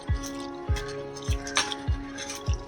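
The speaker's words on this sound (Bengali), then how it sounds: "ঘষে ঘষে সাবুদানাটা কম করে 3-4 বার ধুয়ে নিতে হবে" Large sago pearls are rubbed and rinsed by hand in water, producing soft squishy, dripping strokes at an even rhythm of about one every half second, close and moderately loud.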